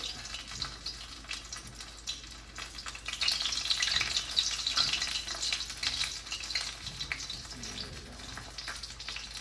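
Bean curd rolls fry in hot oil with a continuous, close crackling sizzle that swells louder midway and then settles back to a steady hiss, with no one speaking.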